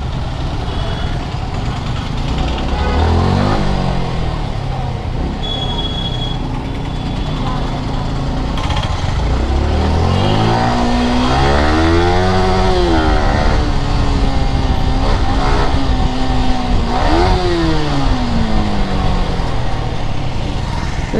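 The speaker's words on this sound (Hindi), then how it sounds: "आज गाइस बहुत स्पोर्ट्स बाइक वाले मिल गए।" Sports motorcycles ride through dense evening traffic, their engines rising and falling in several revving sweeps among other idling vehicles, with a steady close road roar throughout and a brief high beep.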